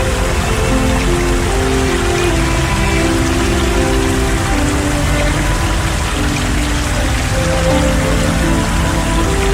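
Heavy rain pours steadily and loudly during days of downpours in Rio Grande do Sul, Brazil, a dense continuous hiss of drops on surfaces with no voices.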